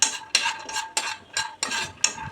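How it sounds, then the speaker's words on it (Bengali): Almonds, cashews and walnuts dry-roasted without oil or ghee in a kadai, a spatula scraping and knocking against the metal pan in about seven regular bursts, close and fairly loud, with no talk. "আগে কড়াতে ভালো করে নেড়ে চেড়ে একটু ভেজে নেব।"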